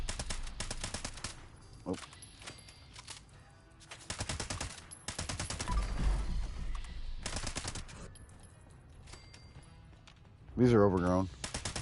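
Rapid crackling bursts of fireworks popping and banging in Fallout 76, coming in dense repeated volleys with brief gaps, loud and close, while players talk over the noise.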